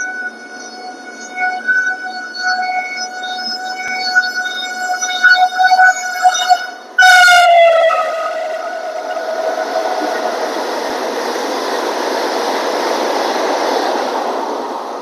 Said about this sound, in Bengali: এখন এই বলতে বলতেই কিন্তু সামনে একটা ট্রেন ঢুকছে।